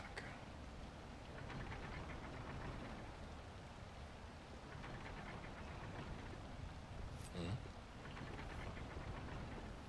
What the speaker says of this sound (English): Another victim of this endless rain.